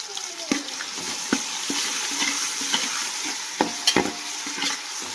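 Ginger paste and tomatoes fry in a pan with a steady sizzle while a spoon stirs, scraping and clinking against the metal at irregular intervals, close and fairly loud.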